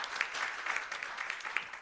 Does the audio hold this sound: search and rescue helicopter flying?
no